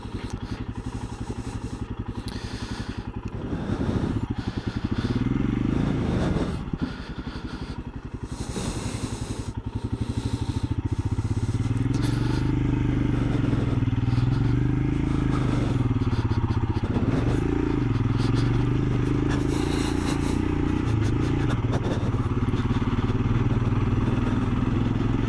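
A Royal Enfield Scram motorcycle being ridden, its engine note climbing and shifting through gears, loud and steady for the whole stretch with a brief dip in the middle and wind rushing past.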